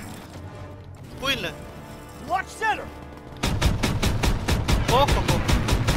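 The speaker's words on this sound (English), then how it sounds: "Get on that flak gun and take out those Stukas" A flak gun in a Call of Duty WW2 battle against Stuka bombers, heard first as scattered shots and diving aircraft whines, then as a fast, loud, steady run of rapid booming rounds, with a brief spoken word over it.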